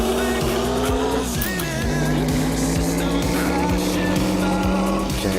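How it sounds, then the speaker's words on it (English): A Maserati's engine roars loudly in the Assetto Corsa racing game, revving through repeated gear shifts with rising and dropping pitch, tyre squeal mixed in, close and continuous. "Okay, so the engine might be a little bit too loud."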